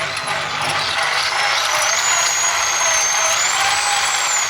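A power drill bores a hole through ceramic tile while installing a kitchen glass shelf, giving a steady, loud whine with a rising and falling pitch. The grinding runs continuously and close, with no talk over it.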